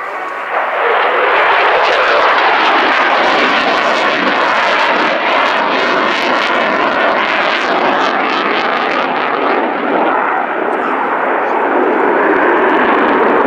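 An aircraft at the RIAT airshow at Fairford pulls up into a loop, its engines giving a loud, sustained, close roar that holds steady before easing slightly toward the end.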